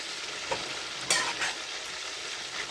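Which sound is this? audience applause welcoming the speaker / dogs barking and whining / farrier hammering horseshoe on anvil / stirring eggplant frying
stirring eggplant frying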